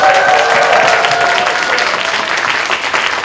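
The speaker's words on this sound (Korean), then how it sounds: "우리가 가장 드릴 수 있는 가장 큰 환호성과 박수로 주님 앞에 영광과 환호성을 드리도록" A church congregation applauds and cheers loudly during a Sunday worship service, a dense, continuous roar of clapping that holds steady and eases off slightly toward the end.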